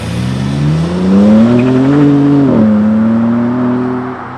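A BMW M4 Competition accelerates along a road, its engine note climbing steadily, dipping briefly at a gear change, then pulling up again, loud and close from inside the car.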